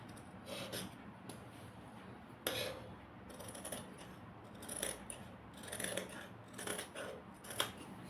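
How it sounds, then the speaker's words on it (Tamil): Scissors cut through cloth for a baby frock, with crisp snips and light metallic blade clicks repeating at an uneven pace, close and fairly quiet, with no talking. "இப்போ கட் பண்ண போகிறேன் பாருங்கள். இங்கே பாருங்கள், இதை அப்படியே கட் பண்ணிடுங்க."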